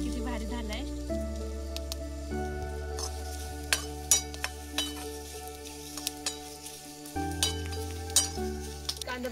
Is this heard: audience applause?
no